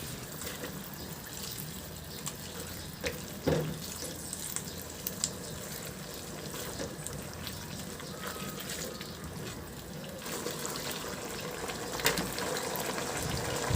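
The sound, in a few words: pouring cornstarch slurry into a simmering fish dish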